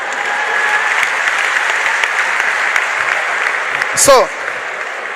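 An audience at a youth event claps in a dense, steady wave of applause that runs throughout, with a brief spoken word from the stage near the end.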